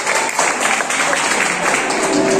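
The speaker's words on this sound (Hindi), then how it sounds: "जोरदार तालियां इनके लिए।" Loud applause from guests at an aqiqah gathering after a correct answer in an Islamic quiz, a brief, dense wash of clapping held at steady volume throughout.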